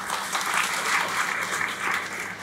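A room of attendees at a Nepali Buddhist association's general assembly claps steadily to welcome a guest, dense continuous applause at moderate volume throughout, with no voices.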